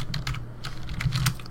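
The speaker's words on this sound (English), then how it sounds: "you can hold Alt and then use the arrow keys on the keyboard" Computer keyboard keys clatter in quick irregular bursts as Alt and arrow keys are pressed, close and crisp with no talking.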